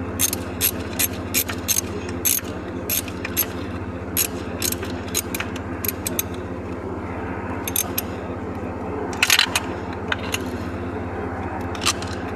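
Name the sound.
ratchet wrench turning while replacing a dump truck alternator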